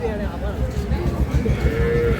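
A dairy cow mooing at a cattle market: a low, drawn-out bellow close by over a steady crowd murmur.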